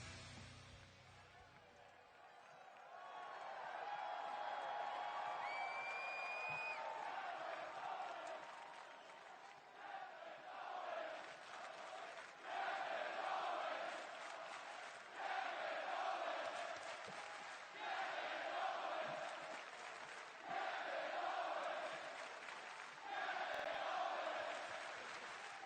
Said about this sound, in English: the crowd are hyped tonight